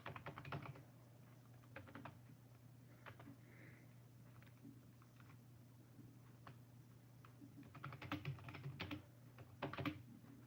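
Quiet typing on a computer keyboard: soft, scattered key clicks at first, then a denser burst of faint tapping near the end, with no talk over it.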